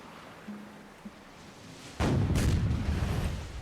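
Ship side cannons fire in Black Desert Online, sounding as a sudden loud booming blast that rolls into a sustained rumbling roar after a quiet stretch with a couple of small knocks.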